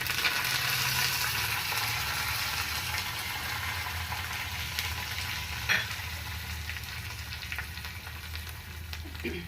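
A tempering of asafoetida and curry leaves sizzles in hot oil for beetroot chutney, giving a continuous, close, crackling fry with no talk over it.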